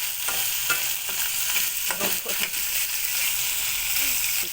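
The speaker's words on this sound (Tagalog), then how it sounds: "kailangan talaga lutuin natin ng maigi ang ating pork" Pork stir-fries in a pan, with a continuous bright sizzle broken by several sharp scraping stirs of the spatula, close and fairly loud, with no one talking.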